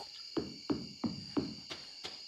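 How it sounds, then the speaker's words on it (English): Crickets chirp at night on a farm, a steady high trill running throughout with a few soft rhythmic knocks beneath it, close and fairly quiet. "the sound of the water and the sound of the crickets in the background"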